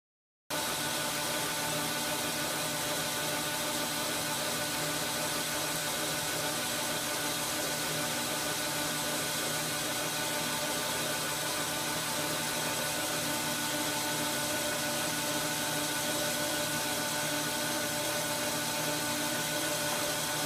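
A machine cuts a 1-inch steel bolt down in a workshop, giving a steady, even whirring and grinding noise that runs on without a break at moderate level, with no talking.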